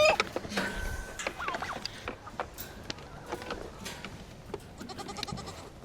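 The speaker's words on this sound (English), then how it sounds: "The problem is now I got all the goats." Several goats bleat in a busy outdoor farm scene, overlapping calls rising and falling at close range with rustling and movement around them.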